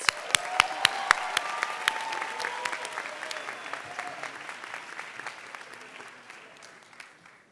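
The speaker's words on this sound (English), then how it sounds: "Let's recognize our parents, grandparents, husbands, wives, family members, and friends with a well-earned round of applause." Families and friends at a Yeshiva University commencement receive applause from the audience, which sounds like a steady, moderate crowd clapping with a few sharp, close claps standing out and tapering off toward the end.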